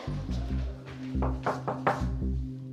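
Heavy thuds of doors banging shut in a family home, several loud low-end impacts in irregular succession with faint background activity between them.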